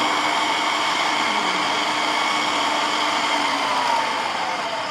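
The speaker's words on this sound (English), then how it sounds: "Just give the blender a little bit of a go now." A blender whirs steadily as fruit is blended into a healthy smoothie, giving a loud, continuous motor roar that holds for the whole stretch without pause.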